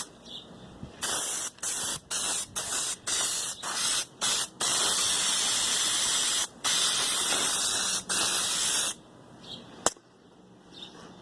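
Contact adhesive sprayed from a can onto a 1993 Camaro door panel surface in a run of bursts, several short, then a long steady hiss, then more short bursts, close and loud with no talk.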